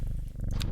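A cat's steady low purr, close and continuous, with a few brighter rustles or clicks toward the end.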